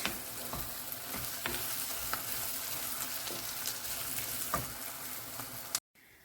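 Onions fry in a pan with a steady, close sizzle, interrupted by a few soft clicks of stirring, before cutting abruptly to near silence at the end.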